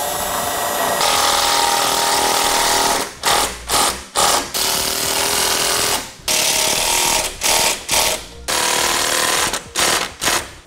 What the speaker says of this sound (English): Now we'll just take the provided self-tappers and run it on in.